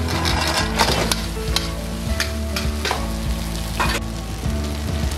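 Boiled rice frying in a pan and sizzling loudly up close, while a spoon scrapes and taps the pan in irregular strokes.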